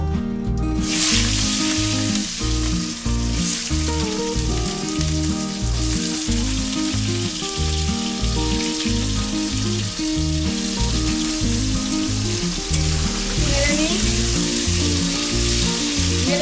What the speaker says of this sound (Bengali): সুন্দর করে ভেজে নেব